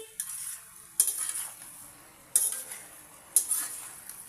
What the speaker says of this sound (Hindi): पहले बैगन डालेंगे और अच्छे से फ्राई कर लेंगे उनको।